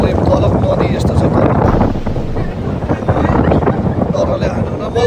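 A strong, steady wind roars at a high spot along a Tennessee hiking trail, pummeling the microphone continuously, with a voice faintly present beneath the rush.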